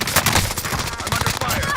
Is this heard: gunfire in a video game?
yes